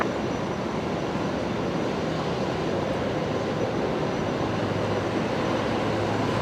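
A Qantas Boeing 737 on short final into Brisbane airport, arriving from Sydney: a steady, loud broadband jet engine roar with a low rumble, constant throughout and without voices.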